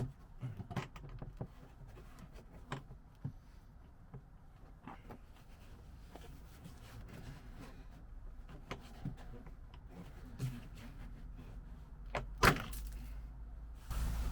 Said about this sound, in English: what we're going to do is open the doors and attempt to remove that seal cover.